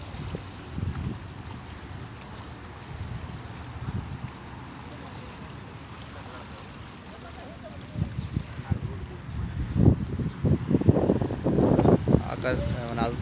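Wind gusts outdoors in Dammam, Saudi Arabia, buffeting the microphone in uneven low rumbles that grow stronger toward the end, with people talking intermittently beneath.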